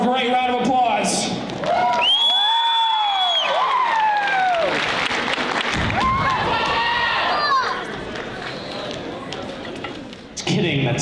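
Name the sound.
applause and cheering for a talent show performer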